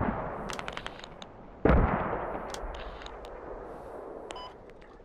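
Mortar shells land in a battlefield video game, one loud broadband blast near the middle over a steady rumble of distant fire and scattered smaller pops, with another impact starting at the very end.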